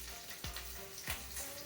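Onions sizzle steadily in a hot frying pan, close up, with a constant crackling hiss and a few light scrapes or stirs; no talking.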